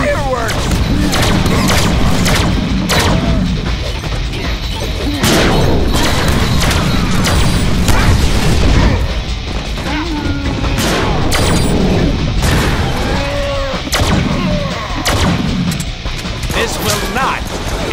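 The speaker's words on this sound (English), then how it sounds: "Woohoo! Fireworks!" Fireworks in the Deadpool video game burst repeatedly as loud booms and crackling bangs, nearly continuous for the whole stretch, with game voices talking over the blasts.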